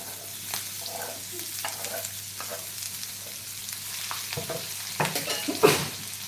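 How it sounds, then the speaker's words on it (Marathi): Finely chopped onion frying in hot oil for a boiled egg curry, with a steady low sizzle and scattered utensil stirring knocks that grow louder near the end, no talking. "तेल गरम झालं ते आपण एक बारीक चिरलेला कांदा घालूया"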